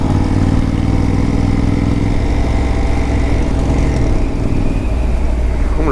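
An automatic motorcycle with no clutch accelerates hard from a standstill, its engine revving loud and close with a continuous raspy drone that climbs slightly toward the end.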